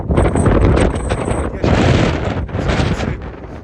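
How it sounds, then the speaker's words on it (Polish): Strong mountain wind on the Śnieżka ridge buffets the microphone in loud, continuous roaring gusts with brief lulls, broadband and close, with no voices. "dość mocny, dość mocny wiatr"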